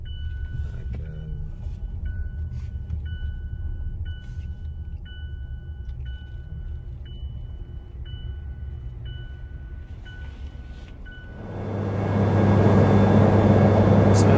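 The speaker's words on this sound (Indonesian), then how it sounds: "Saya di dekat pesawat." A low engine rumble from a nearby airplane holds steady at first, then swells into a loud, broad roar near the end, with no voices over it.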